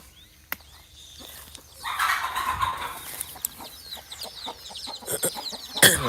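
Farm chickens cluck and squabble in scattered bursts, hens calling near and far across an open yard, with a few sharp louder calls toward the end and no voices.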